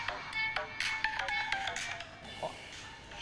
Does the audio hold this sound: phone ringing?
yes